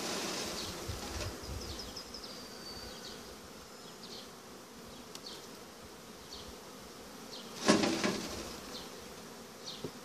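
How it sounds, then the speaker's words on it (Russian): Honeybees from a hive, old and young together, buzz as they are shaken off brood frames into a box, a faint continuous hum with a couple of brief louder bursts and knocks near the end. "Я трушу всю подряд пчелу"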